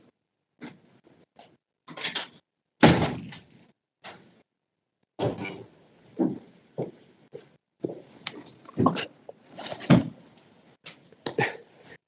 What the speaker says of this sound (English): I just need to close the door